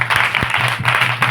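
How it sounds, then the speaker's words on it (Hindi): A church congregation claps loudly together in welcome, a dense, close burst of many hands with a few sharper individual claps standing out. "आज पिता पुत्र पवित्र आत्मा के लिए जोरदार ताली मारकर"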